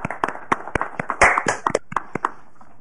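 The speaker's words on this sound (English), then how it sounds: "Can we give the staff and yourselves a round of applause?" Applause at a council meeting, a brief scattering of hand claps from a small group, uneven and sparse, fairly close, fading out after a few seconds.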